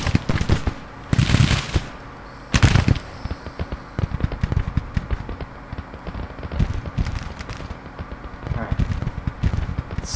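Artillery fires in the Grand Tactician: Civil War battle at Chancellorsville, with several loud booming cannon shots breaking out at irregular intervals over a steady bed of crackling, rumbling battle noise.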